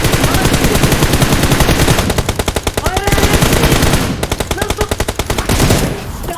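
Gunfire in the game PUBG Mobile comes as loud, rapid automatic bursts in a dense rattling stream. It breaks briefly and then resumes in several long volleys.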